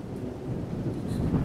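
A thunderstorm with steady rain and a deep, rumbling roll of thunder building through the moment, a dense low wash that stays fairly loud and continuous with no voices.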